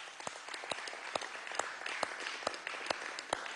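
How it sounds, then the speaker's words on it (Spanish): Scattered applause from a small group at an urban agriculture event at Miraflores in Venezuela, heard as uneven individual claps that continue steadily at moderate loudness with no talk over them. "Un aplauso desde aquí."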